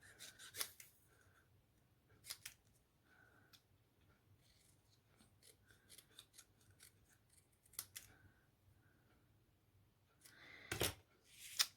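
Scissors snip through a scrap of paper stamped in Evening Evergreen ink, several quiet cuts spaced apart with a longer burst of cutting near the end, close and soft in a calm room.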